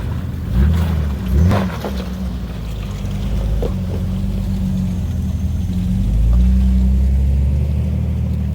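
Jeep Wrangler JKU crawling over a rock ledge off-road, a steady low engine rumble that swells and dips with throttle, close and loud, with a few faint knocks and scrapes.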